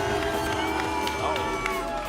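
Arena crowd at the Rocket League World Championship playoffs, a dense sustained roar of cheering and shouting that fills the space evenly, with a commentator's voice speaking over it.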